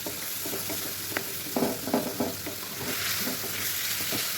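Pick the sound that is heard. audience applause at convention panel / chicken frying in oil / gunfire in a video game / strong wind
chicken frying in oil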